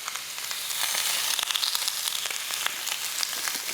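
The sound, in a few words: food frying in oil in a pan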